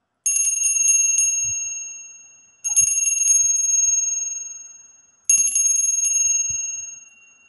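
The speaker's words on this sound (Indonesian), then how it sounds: "Kita akan memulai dengan tanda lonceng berbunyi." Three bright metallic bell rings, each struck sharply and left to fade for about two seconds before the next, with no other sound between them.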